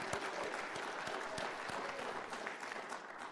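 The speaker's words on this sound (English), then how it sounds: "yeah, we can clap for that" Audience applause at a union presidential candidates forum in Iowa, a steady wash of many hands clapping from a large room, continuous and moderately loud for the whole stretch.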